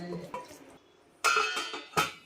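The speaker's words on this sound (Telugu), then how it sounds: "ఇప్పుడు మూత పెట్టుకుని ఒక ఐదు నిమిషాలు ఉడకనివ్వాలి" Lid set on a pot of fish curry in a home kitchen, a couple of sharp metallic clanks over quiet background, with a faint sizzle in between.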